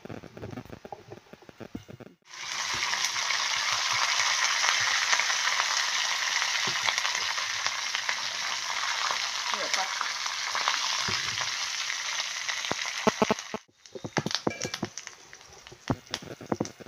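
Loud, steady sizzling of mustard seeds, cumin and chana dal frying in hot oil for a tempering, with brief crackles before and after the main burst.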